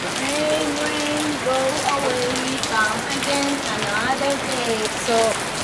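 Heavy rain falls in a constant, loud roar throughout near a waterfall, with people talking over the downpour.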